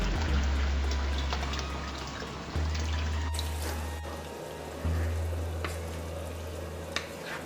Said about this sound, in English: Now I'll add the coconut milk.